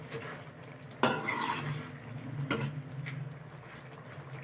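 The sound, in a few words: stirring achari potato and capsicum mixture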